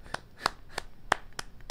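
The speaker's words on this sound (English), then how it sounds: "You get the applause." A single person claps in sharp, separate slaps, about six claps spaced unevenly, close and fairly quiet, with no voices.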